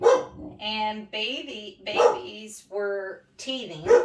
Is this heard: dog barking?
yes